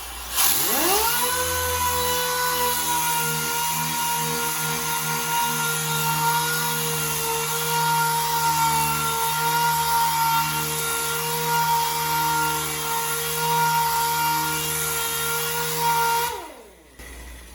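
A DX wet sander with 3000 grit sands flat a painted surface, its electric motor holding a steady, loud whirring whine for about fifteen seconds before spinning down and stopping.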